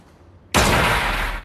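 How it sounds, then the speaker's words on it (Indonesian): After a quiet moment, a sudden loud burst of gunfire erupts and sustains for about a second, a dense continuous blast before cutting off. "Dan inilah tembakan berdarah."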